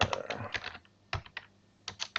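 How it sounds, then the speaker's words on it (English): Quick clusters of key taps on a computer keyboard, close and soft, coming in short bursts with brief pauses between them. "let me just type first."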